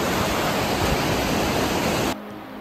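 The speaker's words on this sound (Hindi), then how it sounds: "नदी का हाल" Rain-swollen river in the Sangti Valley rushing loudly and steadily as a dense wall of noise, then cutting off abruptly near the end.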